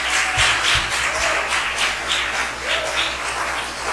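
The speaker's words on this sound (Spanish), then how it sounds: "vamos a dar un aplauso" Audience applause at a worship music gathering, a steady wash of clapping from a crowd that holds through the clip, moderately loud and continuous.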